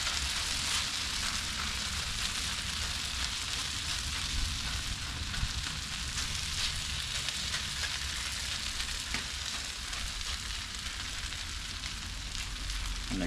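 Hash browns seasoned with salt, pepper and garlic powder frying on a Blackstone griddle, a loud, even, continuous sizzle throughout with no speech.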